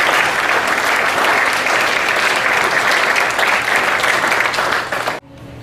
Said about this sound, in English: Please give yourselves a round of applause for contributing to this.